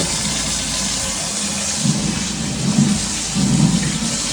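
Goat mutton is washed under running water at home, a loud, steady gushing rush with splashing surges as the meat is rinsed and turned.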